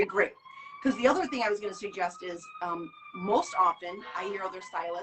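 An emergency vehicle siren wails faintly in the distance in a big city near hospitals, a long steady rising tone, heard beneath a person talking close by.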